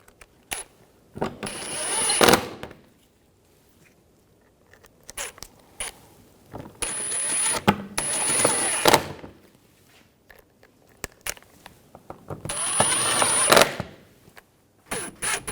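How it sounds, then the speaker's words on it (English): Bolts being tightened on the washer fluid reservoir of a 2011–2018 Volkswagen Jetta TDI wagon, heard as several close bursts of ratchet clicking separated by quiet pauses, with small metallic taps in between. "And get these bolts started and tighten these down."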